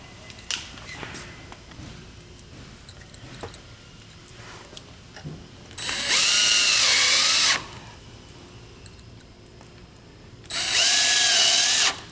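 A power drill drives screws into a door hinge during a hinge swage adjustment, whining loudly in two sustained bursts of about two seconds each, separated by quieter handling clicks and taps.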